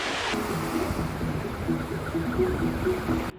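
Baltic Sea water washes onto the shore with a continuous broadband wash and wind rush, loud and close, while faint tonal voices or music sit underneath.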